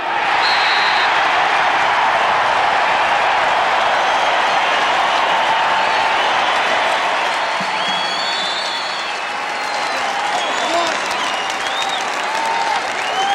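A stadium crowd at a 1994 Syracuse versus Loyola college lacrosse game cheers and applauds continuously, a loud, dense wash of clapping and shouting that holds steady throughout with a slight dip near the end.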